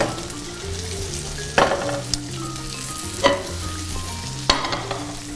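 Steak frying in a pan beside a mirepoix, a steady close sizzle broken by a few sharp clatters and scrapes as the meat is flipped, no talking.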